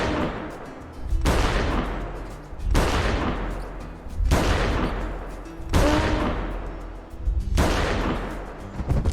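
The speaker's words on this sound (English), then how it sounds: "let's try to get in front of this Brachio real quick and see if we can nail a couple heart shots" Five heavy rifle shots are fired at a Brachiosaurus in the video game Prehistoric Hunt, evenly spaced about a second and a half apart, each a loud boom with a long rumbling decay.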